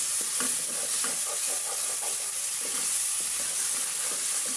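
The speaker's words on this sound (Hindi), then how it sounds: "ये है नमक, ये है ज़ीरा। इसको भूनेंगे अच्छी तरह।" Cumin and salt roast in a pan for a fish dish, a loud continuous sizzle and hiss with rapid, rhythmic spoon stirring close by.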